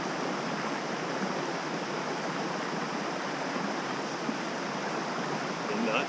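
A mountain creek in a North Carolina forest rushes over rocks, a steady, full, close broadband wash of flowing water with no pauses, alone without voices.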